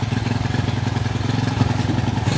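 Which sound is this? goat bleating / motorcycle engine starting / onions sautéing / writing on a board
motorcycle engine starting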